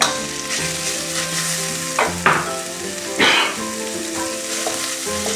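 Minced pork and dried chillies stir-fry in a hot pan, a loud continuous sizzle with several scraping stirs and clanks of the spatula against the pan.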